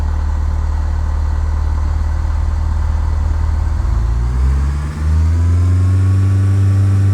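In Microsoft Flight Simulator X, an aircraft engine runs steady and loud, then its tone climbs as the throttle is pushed to full power for takeoff. The drone is continuous and no one speaks.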